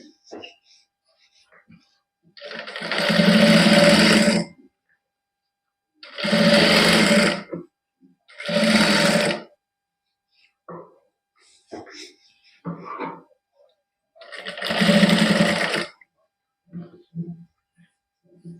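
A sewing machine runs a fine seam along a sweetheart neckline with lace trim, in four short, loud bursts of rapid stitching separated by quiet pauses with faint small handling sounds.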